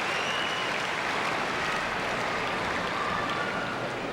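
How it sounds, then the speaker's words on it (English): Curling crowd at the Agridome during the 1998 Scotties claps in steady, dense applause, loud and continuous with no talk over it. "And listen to the crowd at the Agridome."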